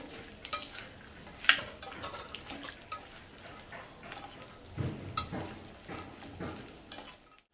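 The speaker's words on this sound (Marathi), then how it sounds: "आता ह्या भोपळ्याच्या बिया आणि कलिंगडाच्या बिया पण घालते" Pumpkin and watermelon seeds fry in ghee for methi dink laddoos, a quiet sizzle broken by stirring scrapes and occasional clinks of a spoon against the pan.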